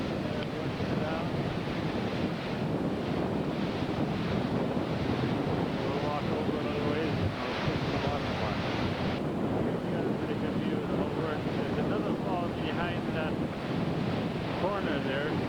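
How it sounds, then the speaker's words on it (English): Roaring waterfall close by in Iceland, a steady broadband rush of falling water mixed with wind buffeting the microphone, loud and continuous throughout with no voices. "here we're right close to the fall."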